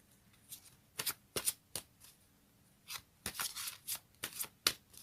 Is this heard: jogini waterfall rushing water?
no